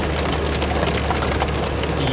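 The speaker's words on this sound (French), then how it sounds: "Oui, c'est de la grêle, oui, c'est de la grêle. C'est des gros grelons." Large hailstones pelt a hard surface on the Sani Pass road in Lesotho during a summer storm, a dense, steady, loud drumming patter of countless impacts with no voices.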